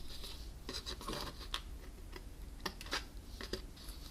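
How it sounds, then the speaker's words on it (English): Scissors snipping a long, skinny strip off a piece of card while making a note card box, a series of short, crisp cuts close by in an otherwise quiet room. "you can cut over from the side right here and cut this long skinny piece"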